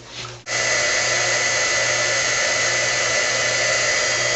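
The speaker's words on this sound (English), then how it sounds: "And then we're going to hit this with the heat tool." A crafting heat tool blowing on a stamped paper card switches on abruptly and then roars with a loud, steady whine and hum, close up and constant.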